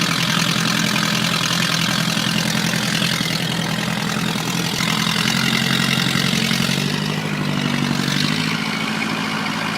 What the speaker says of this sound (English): the tractor answers back with steady mechanical force